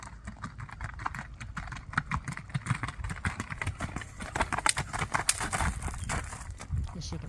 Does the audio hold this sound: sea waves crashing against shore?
no